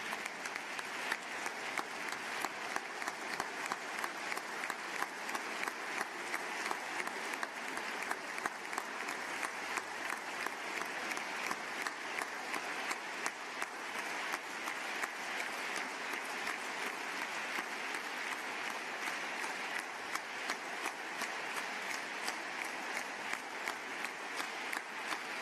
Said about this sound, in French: Je vous demande vraiment de leur faire une standing ovation.